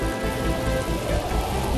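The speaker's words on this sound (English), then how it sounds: "And the rain came down, the water rose, and the winds blew against that house." Heavy rain pours down during a storm, a dense, continuous hiss of drops close by that stays loud and even throughout, with no voices.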